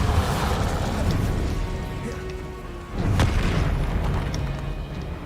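Spell explosions in Hogwarts Legacy, deep rumbling booms over a dense continuous background with one sharp blast near the middle, no voices.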